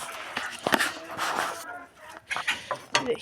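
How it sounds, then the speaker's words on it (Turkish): Hens cluck intermittently close by in a backyard coop while a person talks quietly over them. "Gördüğünüz kimi bütün tavuklar burada"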